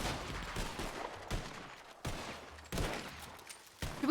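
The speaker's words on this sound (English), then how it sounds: "All right, continuing to fire." Video game gunfire in a tactical squad shooter: a rapid string of loud shots cracks out continuously, with several sharp bursts standing out, all alone with no talk.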